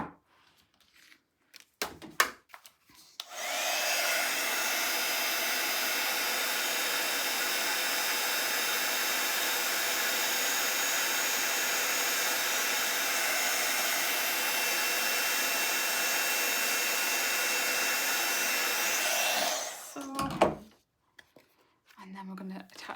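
A heat tool blows a loud, steady whooshing hiss for about sixteen seconds while melting clear gloss embossing powder on a card, framed by close handling clicks and rustles before and after.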